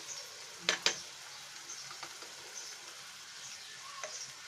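A hilsa fish head sizzles and fries with salt in a pan, giving a steady low hiss with a few sharp spatters and stirring clicks, fairly faint and without talk.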